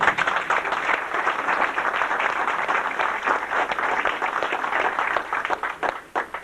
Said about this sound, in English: I'd like to give you, Jim, a big round of applause